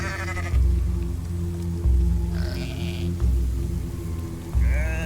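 Upset sheep in a video game bleating in short wavering calls, several bursts over a steady looping music bed, close and clear with no talking.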